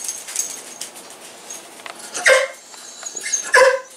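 A dog barks twice indoors, two sharp, loud, close yelps spaced over a second apart, with quieter clatter and faint rustling between them and no talking.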